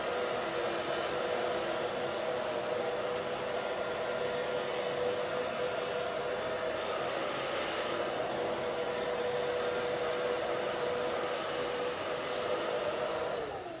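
A hair dryer set on low blows a steady, even whooshing roar while drying bangs into place, close and continuous without pause, with no one speaking.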